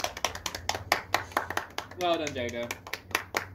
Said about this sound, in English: I think he needs a round of applause